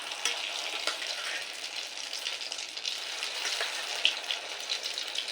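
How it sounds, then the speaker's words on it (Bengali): Soybean chunks frying in hot oil for chilli soybean, with a dense steady sizzle and crackle throughout and a few brief louder pops. "দ্বিতীয় ব্যাচে সয়াবিনগুলো দিয়ে ভেজে নেব"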